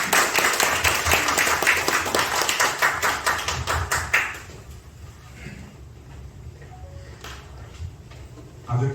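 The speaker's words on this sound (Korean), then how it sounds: "네 분께 다시 한번 뜨거운 박수 부탁드립니다." Audience applause for four lecturers at a media mission seminar, a dense, lively clatter of clapping for about four seconds that stops abruptly and leaves quiet room tone.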